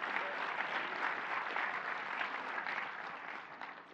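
Steady, dense applause from a crowd fills the whole stretch, even and continuous without breaks, tapering slightly at the close.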